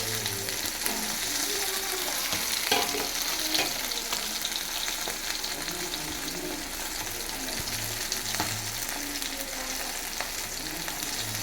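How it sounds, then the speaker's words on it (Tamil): Fish fries in a pan over a medium flame with a dense, continuous sizzling hiss, close and even, broken by occasional soft stirring or turning clinks, with no voices. "மீடியமாக வச்சுக்கிட்டோம்னா தான் நமக்கு நல்லா ஃப்ரை ஆகும்"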